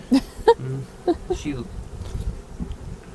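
Bees buzz close by in irregular, wavering bursts, with a faint murmur of voices underneath.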